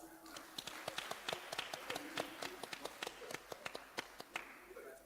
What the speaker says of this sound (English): So round of applause for all of us.